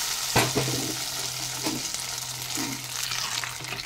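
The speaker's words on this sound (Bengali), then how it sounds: "দিয়ে ভালো করে মিশিয়ে দেব।" Khichuri being stirred in a pot after ghee and garam masala are added, with a steady sizzle under repeated scraping strokes of a spoon, close and fairly loud throughout.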